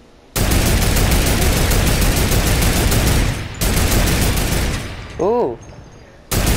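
Video game turret gunfire in a dog-fight match: loud, sustained rapid automatic fire for several seconds, a brief break, then more bursts, with a short exclamation from a player partway through.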